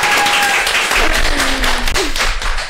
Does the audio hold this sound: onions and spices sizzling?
no